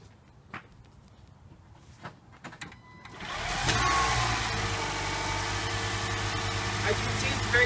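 A small 1.5-litre hybrid car engine starts after a few seconds of quiet clicks and handling noises, then settles into a steady, fairly loud idle hum close by.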